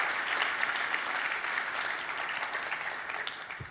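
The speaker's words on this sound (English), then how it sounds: "If you guys just give these guys a round of applause" A large keynote conference crowd applauds a customer support team, dense continuous clapping that holds steady and full for the whole stretch, moderately distant with no voices on top.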